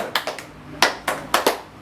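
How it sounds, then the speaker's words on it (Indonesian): Rhythmic hand clapping in a patterned sequence, a few quick claps, a pause, then more sharp claps in groups. The claps are crisp and close at moderate volume in an indoor session, with no talking. "Yang pertama gini Bu, tepuk semangat."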